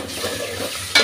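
Spices fry and are stirred in a pan for a jackfruit seed and chicken curry, a close, continuous oily sizzle with a scrape of stirring at the end.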